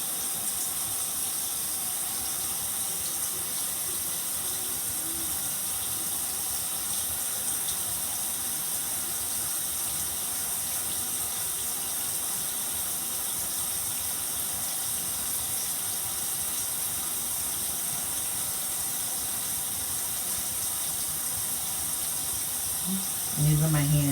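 Running water rinsing natural hair gives a steady, even hiss that carries on without a break, close and moderately loud, ending in a brief knock.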